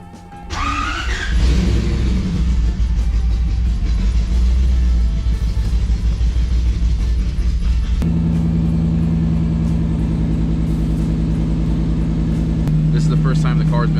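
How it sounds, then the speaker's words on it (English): A Lexus SC400 drift car running for the first time with a new full exhaust, its engine firing up and then holding a loud, steady, deep idle drone with brief revs, up close, with people talking over it. "This is the first time the car's been ran with full exhaust"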